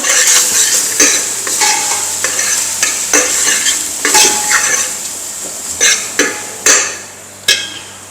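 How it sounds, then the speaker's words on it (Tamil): Masala is stirred in a frying pan with a spatula, making close, irregular scraping and clinking strokes over a light sizzle, with several sharp metallic taps toward the end. "இப்போ எடுத்து தீர மசாலா எல்லாத்தையும் நம்ம போட போகிறோம் இப்போ போட்டு நம்ம கிண்ட போகிறோம்"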